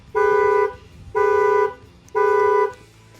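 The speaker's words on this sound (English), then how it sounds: "I'm gonna go ahead and bang on the glass so you can see that the alarm will set off." A Nissan GT-R's factory car alarm blares three loud, evenly spaced honking tones, each about half a second long, with brief gaps between them.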